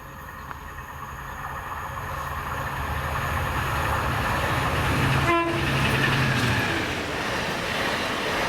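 DRS freight train 4A13 to Aberdeen Craiginches, hauled by locomotive 66301, passing through Monifeith: a steady rumble builds and swells as it nears, with a brief tonal note midway, with no talk.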